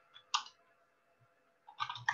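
Typing on a computer keyboard, two short clusters of quiet, close key clicks separated by a near-silent pause.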